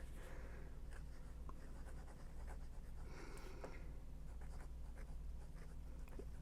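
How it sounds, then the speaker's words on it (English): An Esterbrook Estie fountain pen with a fude nib writes in reverse across paper, giving soft, close scratchy strokes in short bursts over a faint room hum. "Let's try reverse writing really quick."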